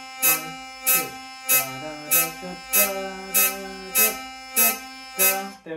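A hurdy-gurdy drones on a steady bass while the player strikes regular rhythmic coups on the wheel, producing sharp buzzing pulses roughly every half second over a sung-like melody line, close and clear.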